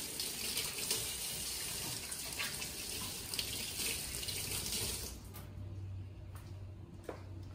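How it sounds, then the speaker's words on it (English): A kitchen or bathroom tap runs steadily into a sink for about five seconds while hands are washed, then cuts off, leaving quiet handling sounds and a faint hum. "I'm gonna wash my hands"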